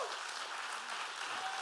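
An audience at a church sermon claps together, a dense, even wash of applause that is somewhat distant and soft, continuing without a break.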